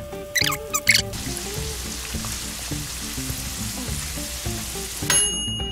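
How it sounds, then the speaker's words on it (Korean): Hot oil sizzles and crackles steadily as Chinese sweet potato starch noodles deep-fry, with sharp popping bursts and a few high squeaky crackles near the start and end. "뻥뻥 터지는 소리가 났거든요?"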